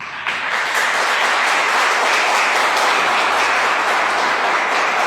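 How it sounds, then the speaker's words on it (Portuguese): A church congregation applauds in a dense, continuous roar of clapping that stays loud and even from start to finish, with no voices standing out. "Vamos aplaudir Jesus?"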